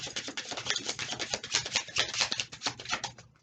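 Tarot cards are shuffled by hand, producing a quiet, close flurry of rapid riffling and soft rubbing with uneven pulses for a few seconds, no voices.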